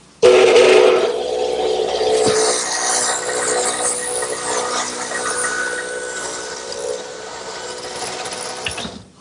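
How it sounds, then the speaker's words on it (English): A radial arm saw fitted with a stacked dado head set for a 3/4 inch width plows dados in wood, sounding as a loud spinning whine that rises as the cut starts and then holds steady before tapering off. "I've set up my stacked dado head cutter in the radial arm for a 3/4 inch width, adjusted the height, and now I'll be able to plow out that material"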